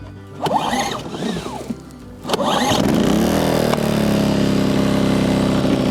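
A petrol generator is pull-started with a couple of rasping cord pulls, then the engine catches and settles into a steady, loud, close running drone.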